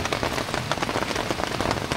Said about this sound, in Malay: Hujan lebat dengan angin kencang.